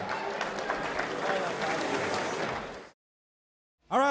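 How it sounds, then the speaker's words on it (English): Crowd applause and cheering at a boxing event after a demonstration bout, loud and steady for about three seconds before cutting off, followed by a brief voice. "Big round of applause to both fighters"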